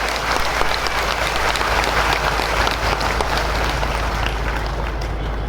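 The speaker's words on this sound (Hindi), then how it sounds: "एक बार पलामू जिले के लिए हम सब तालियों की गड़गड़ाहट कर रहे हैं।" Thunderous applause fills a hall at a spiritual festival gathering, a dense, loud and unbroken wall of clapping from a large crowd that holds steady from start to finish with no voices on top.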